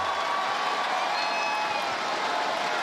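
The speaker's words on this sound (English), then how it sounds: "you can hear some excitement in the crowd." A crowd at an esports playoff event for a tactical shooter cheers and applauds, a dense steady roar of claps and voices heard from a distance throughout.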